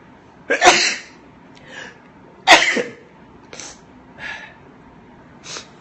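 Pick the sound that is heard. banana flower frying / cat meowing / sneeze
sneeze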